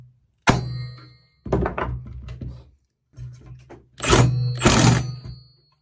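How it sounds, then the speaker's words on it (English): A socket is hammered against a flywheel to seat it onto the shaft of a two-stroke engine, giving several loud, close metallic thunks in uneven bursts with quiet gaps between. "tap it with a hammer. I'll do it with one of my other sockets. And that's going to seat the flywheel onto the shaft"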